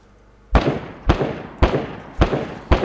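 Five evenly spaced gunshots in the video game DayZ, each a sharp, booming report with a short decaying tail, fired about half a second apart at moderate distance.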